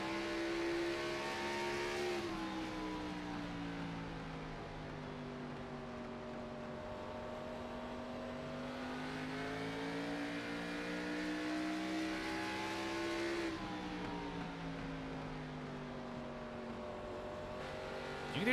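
Race car engine in an Xfinity Series racing video game at Richmond, a steady droning howl held on throttle with gentle pitch rises and dips through the turns, continuous and fairly quiet, with no talk.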